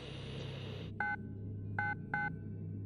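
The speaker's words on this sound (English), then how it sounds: "followed by more monotone beeps, echoed faintly from somewhere deep inside the darkness" Three monotone electronic beeps sound in the darkness, evenly pitched tones spaced apart over a low steady hum, following a brief higher static-like tone that cuts off.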